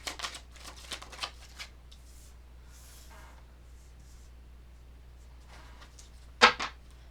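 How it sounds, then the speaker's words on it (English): Tarot cards being shuffled by hand, soft quick riffling bursts in a few short runs at the start and again near the end, close and quiet over a low background hum, no talk. "let's shuffle"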